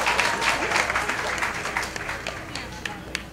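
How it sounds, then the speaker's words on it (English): An audience at an education ceremony applauds for a student, loud dense clapping at first that gradually thins and fades, with a few scattered individual claps toward the end. "Give her a round of applause as well."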